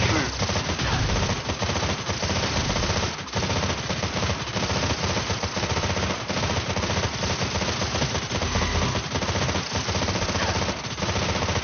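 Video game factory defenses unleash relentless machine-gun fire, a dense, loud, continuous barrage of rapid shots lasting over ten seconds with no pause.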